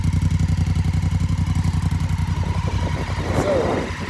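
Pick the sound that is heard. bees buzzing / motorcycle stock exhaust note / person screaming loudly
motorcycle stock exhaust note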